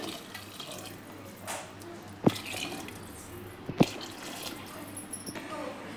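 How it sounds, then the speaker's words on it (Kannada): Water pours from a glass onto raw rice in a cooking pot while making tomato bath, a steady splashing flow with two sharp clinks of the glass against the rim, close and fairly quiet. "ಒಂದೂವರೆ ಗ್ಲಾಸ್ ಅಕ್ಕಿಗೆ 3 ಗ್ಲಾಸ್ ನೀರು ಹಾಕ್ತಾ ಇದ್ದೀನಿ."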